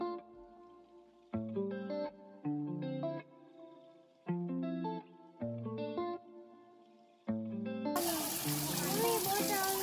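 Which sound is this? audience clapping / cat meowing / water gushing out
water gushing out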